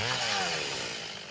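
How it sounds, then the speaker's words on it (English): Chainsaws cutting through fallen trees in hills after an ice storm, a steady loud droning whine that holds for over a second with shifting pitch. "the hills were alive with the sounds of chainsaws"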